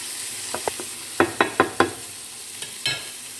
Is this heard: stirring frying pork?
yes